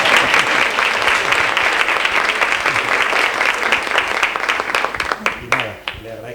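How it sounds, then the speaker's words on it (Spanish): Sustained audience applause at a literary talk with an award-winning novelist, dense and steady clapping filling most of the clip before thinning out near the end. "Aquí está Juan, vamos a darle un aplauso."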